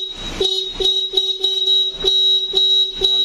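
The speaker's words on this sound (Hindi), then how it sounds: "हॉर्न अच्छी तरह से वर्क कर रहा है" A scooter horn fitted with a newly replaced switch honks in a rapid series of short, loud, evenly spaced beeps, very close.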